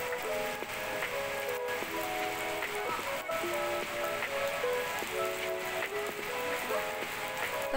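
Rain falls at an outdoor rooftop jacuzzi of a three-star hotel in Banjar, Central Java, as a steady, even hiss, with a repeating melodic tune playing alongside it and no talking.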